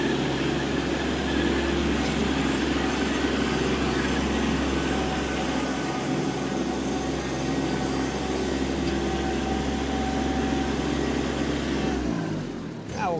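A 2020 Kubota B2401D compact tractor driving in high range, first gear, with a steady low engine drone and drivetrain hum held constant nearby, cutting off abruptly at the end.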